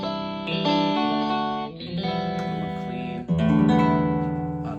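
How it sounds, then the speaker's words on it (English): AeroBand smart guitar playing a processed electric guitar tone with effects, distortion and chorus, strummed chords ringing in three loud phrases with a short dip between them, no talking. "another electric guitar."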